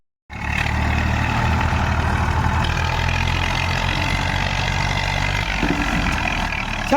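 A heavy diesel tractor engine idles steadily and close by, a low rumbling drone that starts abruptly and holds an even level throughout, with no talking.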